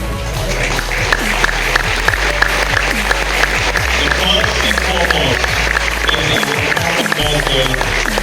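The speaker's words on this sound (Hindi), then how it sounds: "मैं चाहूंगा कि आप लोग सारे लोग उनके नाम पे जोरदार ताली बजाएं" Loud, dense applause from a large audience at an annual company recognition night, steady rapid clapping lasting several seconds over a constant low hum, with voices faintly underneath.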